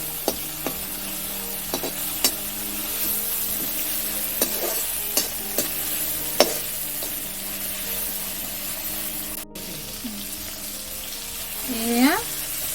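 Prawns stir-fried in a pan give a steady close sizzle broken by scrapes and clicks of a spatula against the metal, with a brief scraping swirl near the end.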